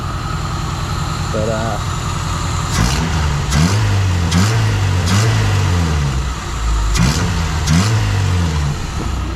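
A Toyota KE55 Corolla engine with a new radiator and thermostat idles roughly and revs several times in bursts, loud and close, while people talk briefly over it.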